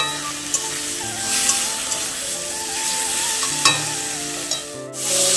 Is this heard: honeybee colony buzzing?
no